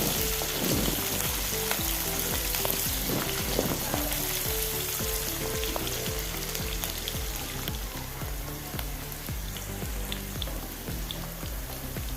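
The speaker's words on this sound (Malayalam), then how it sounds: "ചെറുതായി അരിഞ്ഞത് അടുപ്പത്തിട്ട് ഇനി രണ്ട് പച്ചമുളക് അരിഞ്ഞത് അടുപ്പത്തിട്ട് നല്ലപോലെ ഒന്ന് ഇളക്കി കൊടുക്കാം" Finely chopped onion and green chillies sizzle steadily in a pan for a capsicum recipe, with a dense continuous fry and repeated scraping stirs throughout, close and fairly loud, no voices.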